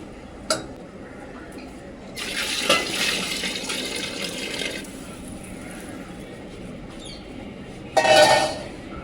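Water poured into a pot of mutton biryani rice made with basmati rice, Ambur style. Pouring washes in from time to time in a kitchen, with clinks of utensils and a louder splash near the end.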